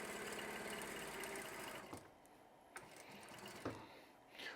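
A sewing machine stitches a quarter-inch seam with a back stitch on quilt fabric: a loud, steady mechanical whir for about two seconds, then it stops, leaving quiet handling noises and a few soft clicks.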